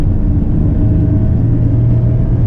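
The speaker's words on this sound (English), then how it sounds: "we're in second gear and accelerating" A lightweight four-wheel-drive kei microvan of under 40 horsepower pulls in second gear, its small engine droning steadily and close inside the cabin with a low rumbling hum.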